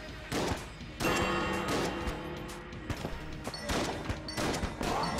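Boss shooting bullets in the game Enter the Gungeon: dense, continuous barrages of crackling gunfire and impacts with repeated bursts of bright shots, loud and busy throughout, occasional thuds underneath.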